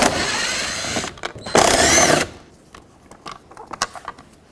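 A T25 Torx screw is backed out of a 2007-2009 Saturn Aura door panel, giving a burst of whirring and buzzing from a tool in two close runs, followed by scattered light clicks and handling noises.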